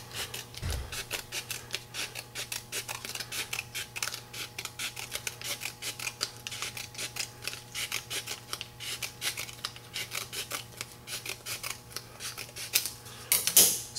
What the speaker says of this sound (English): And I'm going to begin to cut.